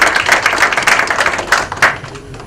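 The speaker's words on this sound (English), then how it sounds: "Let's give the participators a round of applause for helping us out." A conference audience at a training and development congress claps together, a dense patter of many hands sustained and fairly close, easing off slightly toward the end.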